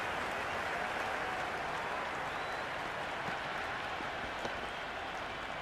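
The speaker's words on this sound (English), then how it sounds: "The crowd are on the edge of their seats." A stadium crowd in the cricket video game Cricket 26 gives off a steady, distant roar and applause-like wash during an India vs South Africa one-day international, continuous and fairly faint with no clear peaks.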